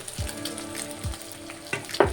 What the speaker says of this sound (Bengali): ডিমটাকে একটু ভেজে নেব, ঝুড়ো ঝুড়ো করে ডিমটাকে ভেজে নেব।